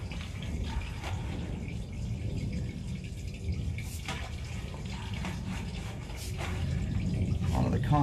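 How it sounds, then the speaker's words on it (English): Water splashing down onto a concrete main sewer pipe, a steady rushing spatter heard throughout with a voice talking over it. "I can see that the water's splashing down."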